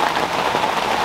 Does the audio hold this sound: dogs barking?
no